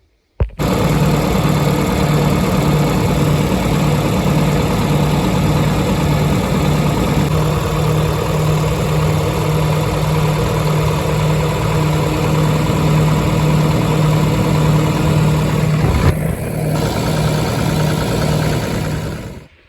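A John Deere 4440 tractor diesel, which has a fuel leak, cranks and catches, then settles into a steady, loud idle with a low throb. The idle runs for nearly twenty seconds with a brief clunk near the end and no voices.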